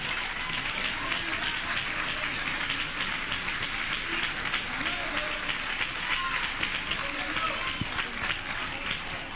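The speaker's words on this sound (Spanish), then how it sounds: "Denle un aplauso a Cristo que Él está aquí esta noche." A church congregation at an evening service applauds with a dense, steady clatter of many hands, rather muffled and continuous, with voices mixed in under the clapping.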